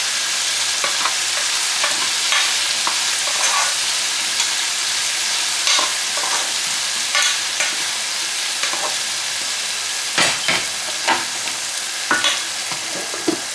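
Potatoes fry in olive oil with a loud, steady sizzle and crackle, interrupted by scattered spatula scrapes and stirring clatters throughout.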